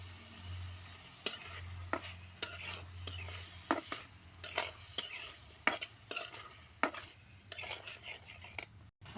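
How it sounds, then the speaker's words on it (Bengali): Potatoes sautéed with spices in oil in a pan, a low sizzle under repeated sharp scraping stirs of a spoon against the pan at a loose, irregular rhythm, close and fairly quiet, no talk. "আলু একটু কষিয়ে নিয়েছি"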